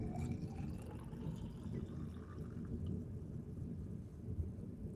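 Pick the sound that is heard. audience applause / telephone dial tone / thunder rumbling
thunder rumbling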